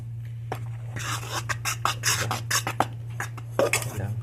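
Utensil stirring hot cake batter in a bowl, with a steady run of close scraping, clinking strokes against the bowl's side over a constant low hum.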